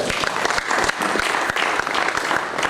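A congregation applauds at a religious wedding ceremony, with steady, dense clapping from a sizable crowd filling the space for nearly three seconds.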